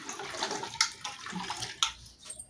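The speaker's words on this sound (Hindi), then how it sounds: "मैं दूसरा पानी से साफ पानी से मैं धुलाई कर रही हूँ।" Clean water splashes and sloshes while something is washed by hand in a basin or pot in a home kitchen, with soft irregular swishes and a few sharper clinks. The sound is fairly quiet and has no talk over it.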